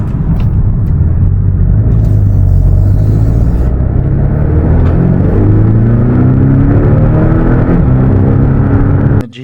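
A Porsche Boxster's 4-liter naturally aspirated engine runs loud and close for several seconds, a deep continuous rumble with rising and falling revs, before cutting off abruptly at the end.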